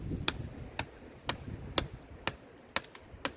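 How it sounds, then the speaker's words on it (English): A Cold Steel SR1 folding knife chops into a small tree about 2.5 to 3 inches thick, giving seven sharp, evenly spaced knocks at roughly half-second intervals. The blows are close and crisp over faint background noise. "let's try to chop this small tree here"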